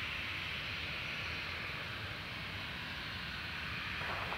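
Qantas airliner taking off from runway 06, a broad continuous jet roar with a hissing rush, steady and fairly distant, heard alone without talk.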